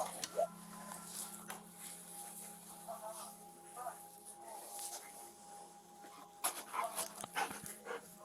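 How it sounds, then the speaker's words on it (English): Dog panting and whimpering in a crime show, soft rapid breaths with occasional thin whines, faint and close, with some scattered clicks and background hum. "Oh, I love dogs."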